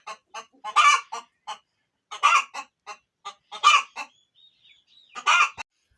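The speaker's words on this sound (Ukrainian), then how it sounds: "Одна єдина курка, напевно, яка знесе яйце і півдням буде кричати." A hen cackles loudly after laying an egg in a backyard homestead flock, with several sharp, closely spaced bursts of clucking that repeat in short runs, near and clear with no talking.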